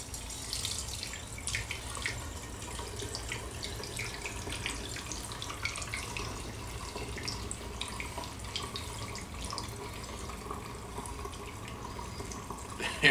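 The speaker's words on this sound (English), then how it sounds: "just going to filter it all back into the original bottle" Filtered homemade cinnamon whiskey trickles steadily back into its original bottle, a soft continuous liquid pour with faint splashing held at a low, even level for about thirteen seconds, no voices present.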